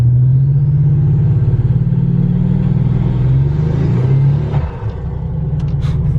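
A boosted car engine in neutral revs hard during a small burnout, a loud, deep, throbbing rumble held for several seconds before the revs drop and settle into a lower idle.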